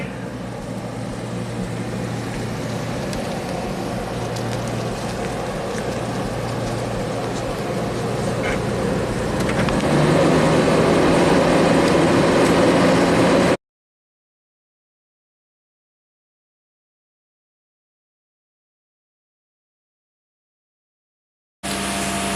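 A 1990 Jaguar XJS V12 warming up at idle: a steady low engine drone that rises slightly partway through, then cuts to silence before briefly returning.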